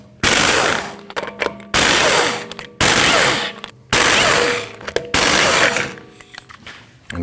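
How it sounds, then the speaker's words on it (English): Lug nuts being removed from the rear wheel of a 2013-2019 Ford Escape, heard as loud, close bursts of rapid mechanical rattling, about five separate runs of a couple of seconds each, divided by brief gaps. "After you raised and supported the vehicle safely, you need to remove your 5 3/4-inch lug nuts."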